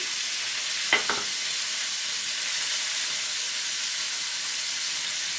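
Fish pieces fry in a pan of hot oil, giving a steady, broad sizzle throughout, with two brief sharper crackles near the start and no voices.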